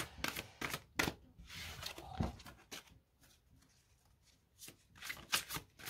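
Large tarot cards being shuffled by hand in quiet, soft riffling bursts with crisp papery flicks, a pause in the middle, then more quick shuffling near the close.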